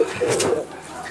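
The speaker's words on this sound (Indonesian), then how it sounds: "Hari udah malam ngajak lihat burung" Pigeons coo at night at a loft in Bandung, a short, soft, throaty cooing close by with faint voices in the background.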